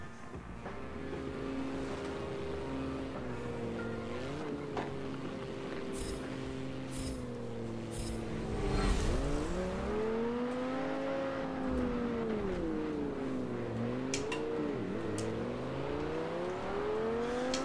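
Race car engines rev and whine at the start of a race in Forza Motorsport 7 on PC, several cars heard together with pitch rising and falling through gear changes, one near engine dominating over a continuous drone.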